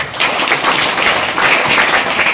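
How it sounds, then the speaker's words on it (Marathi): An audience at a school supply distribution event claps together in a dense, sustained burst of applause that stays fairly loud and even for the whole stretch. "सर्वांनी टाळ्या वाजवून"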